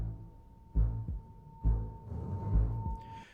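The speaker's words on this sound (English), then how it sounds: "It sounded like a bass drum in the background doing," Orchestral Genshin Impact battle theme with a deep bass drum pounding in a heartbeat-like pattern, three heavy low thumps spaced evenly under a sustained high tone and strings.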